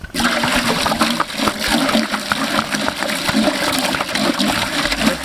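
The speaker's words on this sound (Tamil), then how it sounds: "இப்போ தண்ணி ஊற்றி பீஃபை நல்லா வேக வைக்க போகிறோம்." Water pours steadily into a cooking pot to boil fresh beef for Pondicherry-style beef bonda, a continuous loud rushing and splashing that carries on throughout without talk.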